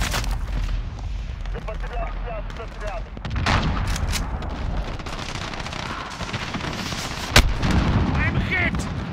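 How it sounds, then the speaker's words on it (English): Call of Duty: Modern Warfare gunship match with a cruise missile strike and gunfire: heavy rumbling explosions and bursts of shots, a sharp loud blast near the end, dense battle noise throughout. "Allied cruise missile launched."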